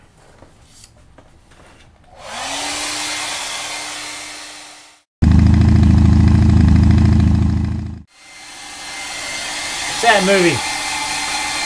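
A hair dryer aimed at a not-quite-dry piece of artwork whirs loudly in several bursts, switching between speeds with a deeper, louder middle stretch, while a voice speaks briefly near the end.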